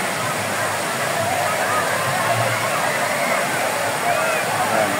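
Steady broadband rush of falling water at Mabinay Spring Falls, constant and fairly loud, like a waterfall close by, with no clear voices over it.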